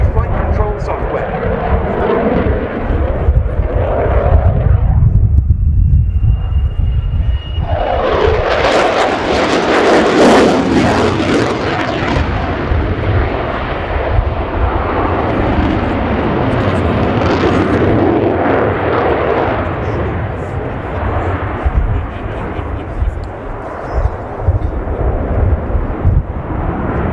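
A Swiss Air Force F/A-18C Hornet roars through a flying display at RIAT 2019, its jet noise surging loud and close, then sustained as it sweeps past, while a commentator talks over it.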